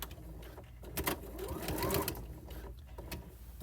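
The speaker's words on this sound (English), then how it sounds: "we're just going to start sewing right there where that original top stitching was." A sewing machine stitches close by along the original topstitching of a pants zipper, whirring steadily with a brief rise in speed midway and no talking.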